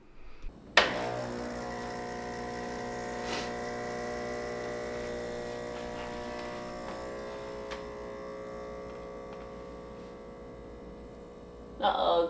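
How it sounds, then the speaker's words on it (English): An electric espresso grinder runs with a steady, buzzing motor hum that starts abruptly, grinds continuously for about eleven seconds at moderate level and fades slightly before a louder rattle at the end, with no speech. "I'm gonna play around with my espresso grinder"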